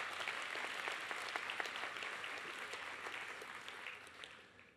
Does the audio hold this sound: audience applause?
yes